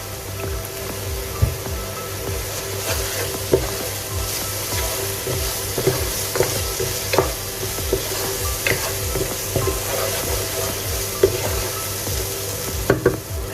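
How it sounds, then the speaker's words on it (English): Fennel seeds, spices and fried onions fry in oil for a chicken tangdi kebab masala, a dense close sizzle broken by repeated sharp scrapes of a spoon stirring the pan. "I'm gonna fry everything really well"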